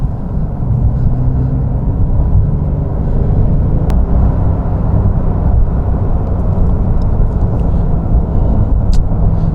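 A 2023 Porsche 911 Sport Classic, rear-wheel drive, pulls hard from around 3,000 RPM as a loud, steady engine drone and road rumble fill the cabin, with no talk.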